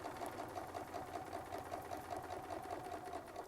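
Sewing machine stitching a quilting design with a Westalee Spin-E-Fex ruler runs continuously at a quick, even rhythmic pulse, close and moderately quiet, with no talking.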